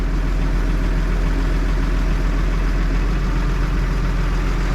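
A tractor engine running during disc harrowing for wheat sowing, a steady low rumbling drone with constant hum, close and loud, unchanging throughout.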